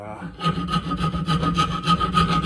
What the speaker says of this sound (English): And what I'll do with that is actually have a wood rasp. This is just a wood rasp.